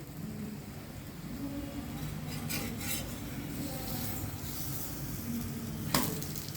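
Bottle gourd batter sizzles steadily on a hot griddle, a close, continuous frying hiss with a few metallic scrapes of a utensil and one sharp clink near the end.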